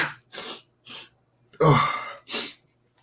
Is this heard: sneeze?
yes